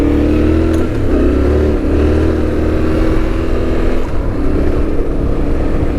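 A Yamaha Tenere 700 motorcycle engine runs close and loud, holding a steady rumbling idle with slight swells as the throttle is rolled on, with no talking.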